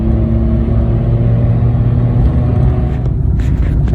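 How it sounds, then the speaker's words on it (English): Car cruising at 40 mph in third gear on supermarket fuel, a steady, loud engine rumble and road whir held throughout with no talk. "at 40 mile an hour in 3rd gear with just Asda's fuel"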